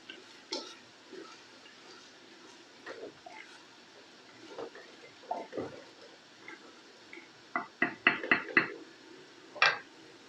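Green chilies being stirred into mutton in a clay pot, heard as scattered scraping and clinking knocks of a utensil against the pot, with a quick cluster of sharper taps near the end.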